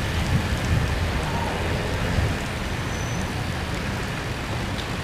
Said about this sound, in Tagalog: tapos biglang umulan